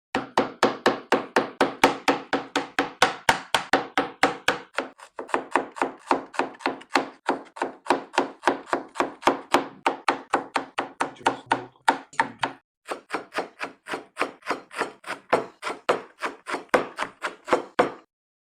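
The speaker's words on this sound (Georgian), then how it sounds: "ჭრით დაახლოებით 4 ნაწილად თითო ერთეულს" A knife chops mushrooms into quarters on a wooden board in a steady, fast run of crisp knocks, close and clear, with two short pauses and no talk.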